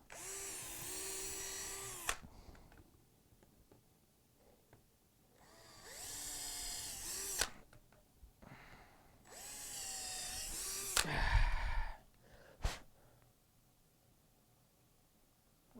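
A power drill runs in three long, loud high-pitched bursts while drilling metal, separated by pauses, ending with a brief final whir.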